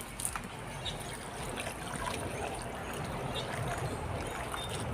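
Tap water running from a kitchen sink faucet, a steady close splashing trickle that holds at an even level throughout.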